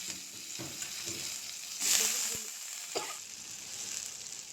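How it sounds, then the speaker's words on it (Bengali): Eggplant pieces hit hot oil already fried with turmeric, cumin and coriander powder and sizzle steadily, with a brief louder flare and a few light stirring knocks and clinks. No one speaks. "মশলা ভাজা হয়ে গেছে। এখন দিয়ে দেব বেগুনগুলো।"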